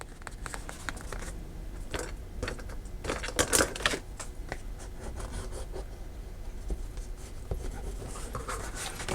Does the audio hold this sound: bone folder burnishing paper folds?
yes